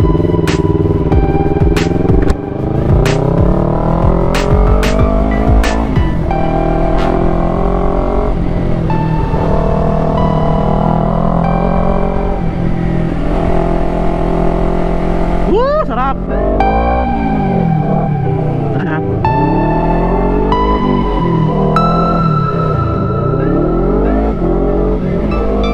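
Motorcycle engine on a ride to Talisay, running steadily and loud throughout with rising and falling revs through gear changes, close up, with a voice talking over it.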